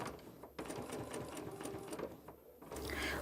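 A sewing machine stitches steadily while quilting traditional blocks with rulers and a quarter-inch foot, a continuous close rapid rattle with a short pause partway through.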